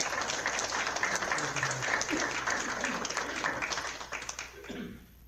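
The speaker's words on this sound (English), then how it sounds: "I think Jerry deserves a round of applause." Applause at a city council meeting in Blackwell, Oklahoma, a steady round of clapping from the room that holds for several seconds and then tapers off near the end.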